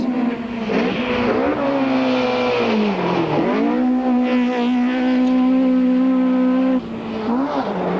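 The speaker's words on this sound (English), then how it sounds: "As van der Merwe's Ford blasts into sight" A Ford rally car blasts past during the Tour De Total rally, its engine roaring loud and close with rising and falling revs, a sustained snarling drone that dips and climbs as it passes.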